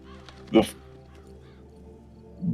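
A raven cawing in The Witcher 3 video game, one sharp harsh call with a second short call near the end, heard over background talk.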